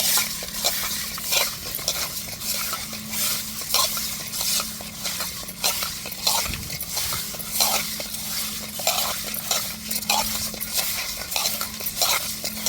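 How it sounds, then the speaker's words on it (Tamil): Fish being rubbed with coarse rock salt in a clay pot, a gritty rhythmic scraping and rasping repeated in quick strokes, close and steady, with occasional light knocks against the pot and no speech. "மண் சட்டியில் கல் உப்பை போட்டு மீனை உரசுனா இதோட வெடுக்குத்தன்மை நல்லா போயிருங்க"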